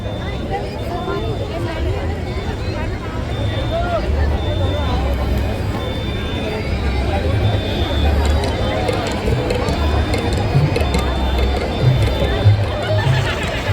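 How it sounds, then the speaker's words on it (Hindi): Large crowd milling at the Uttarakhand Mahakauthik fair in Noida, a steady dense hubbub of many voices and footsteps, continuous and fairly loud throughout with no single speaker standing out. "मेले में है अपार भीड़"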